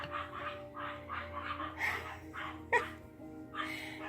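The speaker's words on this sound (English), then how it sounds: "My little dogs are barking." Several small dogs yap in short, repeated barks at a moderate distance, with a louder sharp yelp near the end and a steady hum underneath.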